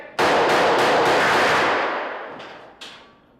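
Gunfire with blank rounds and bullet-hit effects on a film set, a loud close burst of rapid overlapping shots that roars, fades out, then a couple of later pops.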